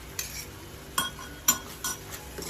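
A spoon stirs ginger garlic paste and crushed green chili into a tomato masala in a pan, giving several separate metallic scrapes and clinks at an uneven pace over a faint background sizzle.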